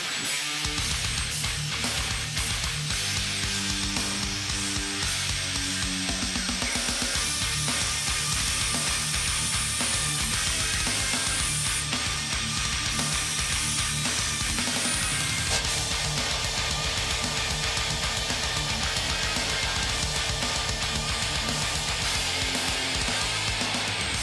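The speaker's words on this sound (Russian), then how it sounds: "Болгаркой будем его обшлифовывать." An angle grinder grinds a steel shaft held spinning in a drill chuck, continuously at close range, a loud, harsh whine that shifts pitch slightly as pressure changes, with no pauses.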